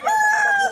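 A native chicken gives a single short crow, loud and close with no other sound.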